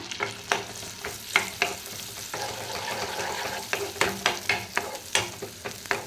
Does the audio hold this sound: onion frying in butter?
yes